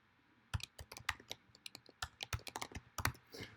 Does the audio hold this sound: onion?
no